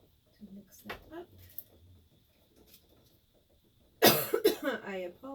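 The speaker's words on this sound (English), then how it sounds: "I apologize for my coughing." A person coughs in an attic under renovation, with faint quiet rustling at first and then a loud burst of several harsh coughs near the end.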